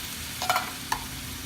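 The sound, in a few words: stirring beef stroganoff with water in pan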